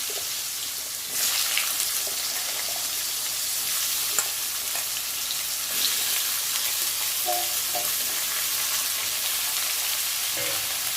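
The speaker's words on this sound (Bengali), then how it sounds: "তেলটা গরম হয়ে গেছে। এবার আলুগুলো আগে দিয়ে দিচ্ছি।" Potatoes sizzle steadily in hot oil in a wok, a constant bright frying hiss with occasional small pops and stirring scrapes, close by and without talk.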